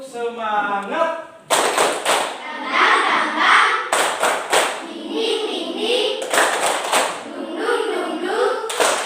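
A class of children claps a rhythmic spirit cheer in a classroom. Several sharp bursts of unison hand claps come in patterned groups, mixed with their chanting voices, loud and close.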